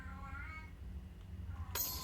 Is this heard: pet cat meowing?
yes